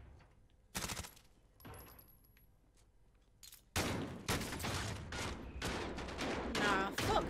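Gunfire in the video game Blood Money: a couple of sharp isolated shots early on, then a rapid, loud burst of repeated fire that keeps going to the end.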